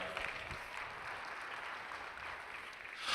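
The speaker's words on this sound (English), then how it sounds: "Let's give our juniors a big round of applause." At a youth fair lamb show, the audience claps for the junior exhibitors, a steady soft wash of applause heard from some distance that swells slightly at the very end.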